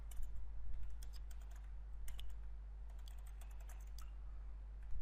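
Rapid clicking keystrokes on a computer keyboard come in irregular bursts and short runs, close and clear over a low steady hum, with no talking.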